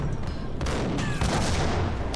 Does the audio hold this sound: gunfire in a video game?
yes